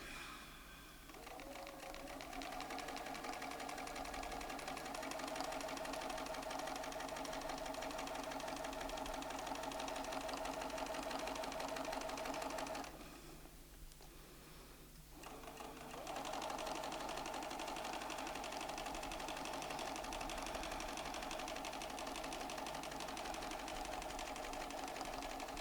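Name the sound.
Bernina sewing machine stitching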